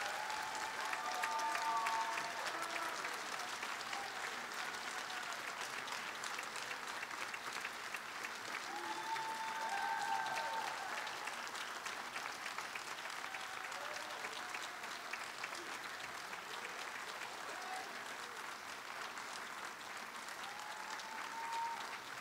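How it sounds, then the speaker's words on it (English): Audience applause honouring seniors at a spring vocal concert, a sustained, even clapping from a crowd that fills the hall steadily at moderate distance, with faint voices and whistles mixed in. "I want everybody just to give a big round of applause to recognize all these seniors"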